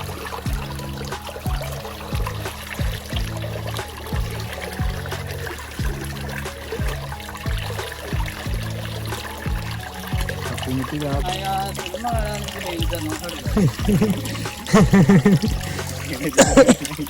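Water flows steadily out of a farm tubewell with a continuous splashing gush and a faint low rhythmic pulse underneath. People talk over it, and the water surges louder near the end.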